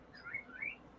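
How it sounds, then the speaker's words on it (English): A pet bird gives two quick, faint chirps, soft and close, in an otherwise quiet room. "He's making little kissy sounds and tweeting all cute."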